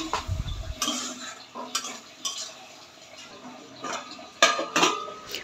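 A cooking pot being covered with its lid while onions simmer in a little water on the stove, with a few sharp metallic clinks and scrapes of lid and utensils against the pot, close by and fairly loud, no talking.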